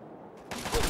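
Gunfire in Fallout 3 bursts in halfway through, a dense, loud rattle of shots that builds toward the end after a quieter, muffled stretch.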